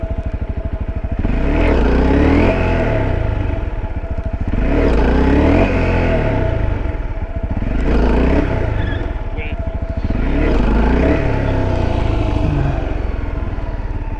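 A motorcycle being ridden in wheelie practice, its engine loud and close as it revs up and eases off in four repeated surges, with brief speech-like sound mixed in.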